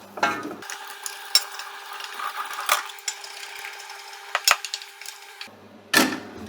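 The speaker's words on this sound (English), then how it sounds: "Now this is where you really got to cook the panada out." A spoon scrapes and knocks in a pan as choux pastry panada is cooked and stirred, giving irregular close scrapes and clicks over a low, steady background hum.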